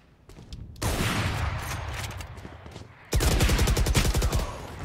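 Two long bursts of rapid automatic gunfire in a shooter video game, loud and close, with a short gap between them and sporadic single shots before.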